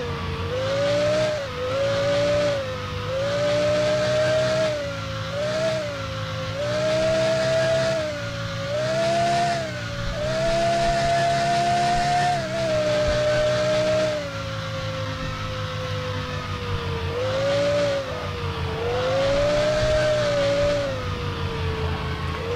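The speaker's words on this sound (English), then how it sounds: "going right, slowly and drifting my car." A Ferrari engine drones steadily while drifting through a desert course in Car Driving Simulator 2020, its pitch rising and dipping with throttle changes over a constant loud synthetic hum.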